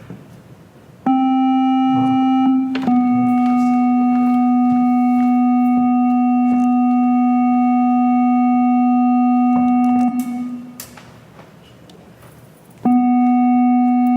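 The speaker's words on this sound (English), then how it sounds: "So you'll see our sine wave" A steady, pure electronic sine wave tone from a software synthesizer holds for several seconds, drops away briefly into quiet room noise, then returns at the same pitch.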